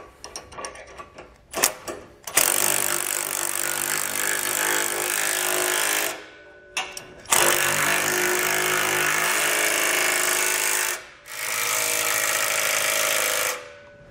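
A power tool tightens bolts on a Blue Ox base plate bracket for a 2019 Ford Explorer, running in three loud, sustained whirring bursts separated by brief pauses and clicks.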